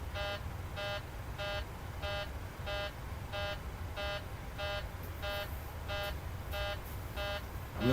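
A repeating cockpit warning alarm in Microsoft Flight Simulator 2020, with the packs left off. The airliner tone beeps in an even rhythm, roughly one pulse every 0.4 seconds, and it carries on steadily over a low engine hum.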